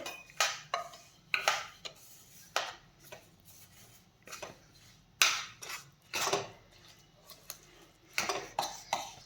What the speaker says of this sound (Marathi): तर आता यामध्ये आपल्याला हे तीळ घालून घ्यायचे आहे। यामध्ये तीळ असे छान मिसळून घ्यायचे।